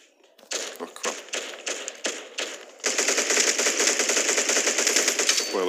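Rapid automatic gunfire in the online shooter Lost Light, loud and close, first in short separated bursts, then a long unbroken stream of fast shots.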